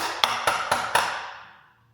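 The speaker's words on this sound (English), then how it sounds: "give it a couple good taps" Four sharp, evenly spaced taps with a tool against parts inside a Tesla Model 3 battery pack, each strike ringing metallically and fading into a long decay, close and clear.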